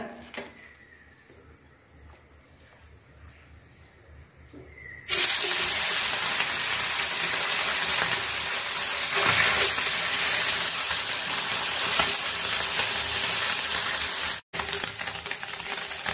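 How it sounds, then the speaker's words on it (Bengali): Small fish coated in turmeric, salt and chilli hit a hot pan, and after a quiet start a sudden loud, steady hissing sizzle takes over and continues to the end with one brief break. "এখন বাজিয়ে নিব মাছগুলা।"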